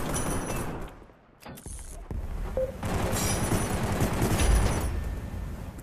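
Gunfire in the shooter game Gun Raiders: dense rapid shots and booms crowding most of the stretch, loud and close, with a brief lull near the start.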